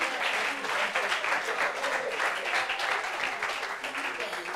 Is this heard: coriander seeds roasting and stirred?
no